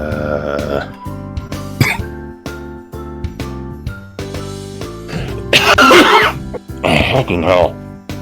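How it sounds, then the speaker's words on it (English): A person irritated by pollen gives several harsh coughs and throat clears in bursts spread across a stretch of conversation, close to the microphone, with voices talking and a light jingling between them. "You've been coughing for a while."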